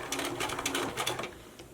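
A sewing machine baste-stitches piping onto a garment in a short run of quick, fairly soft mechanical ticks up close, with no one talking.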